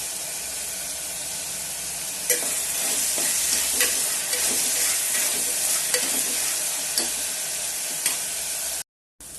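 Green chilies frying in a pan, a continuous hissing sizzle with occasional scraping stirs, steady and close until a brief cut near the end.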